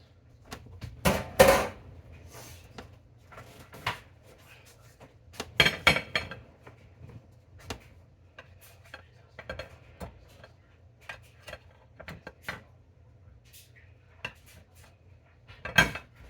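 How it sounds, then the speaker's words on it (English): A metal muffin pan is fetched and handled in a kitchen, with scattered clanks, taps and rattles of bakeware. The loudest clatters are near the start and the middle, and quieter knocks come in between. "Let me get my other pan."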